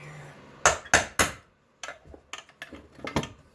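Sharp metal-on-metal hammer strikes on a punch, driving out stuck locating pins on an engine. Three loud close blows, a pause, then a run of lighter taps.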